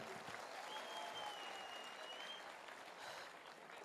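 Audience applause at a diamond celebration event, a steady wash of many hands clapping throughout, fairly faint and distant-sounding with a faint tone in the background.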